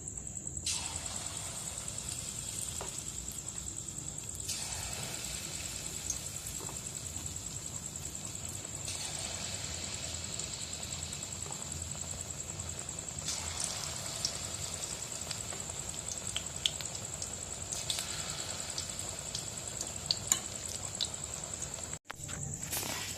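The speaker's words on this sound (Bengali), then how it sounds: "এবার আমি এক এক করে বড়াগুলো ভেজে নেব" Lentil fritters (dahi bora) frying one by one in hot refined oil over a lowered gas flame, a steady close hiss and fine crackle that runs continuously with small surges, no talk.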